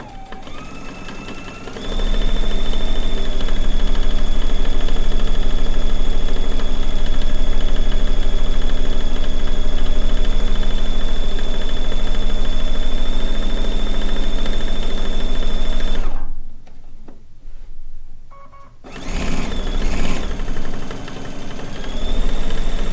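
A domestic sewing machine runs steadily during free motion quilting, a loud continuous motor hum with a sustained whine, holding for about fourteen seconds before a sudden stop, a brief quiet gap, then restarting more unevenly.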